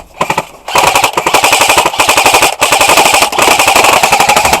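Airsoft gun firing rapid, loud bursts of closely spaced shots in a tree house setting, with a brief pause before the volley and a short gap midway through.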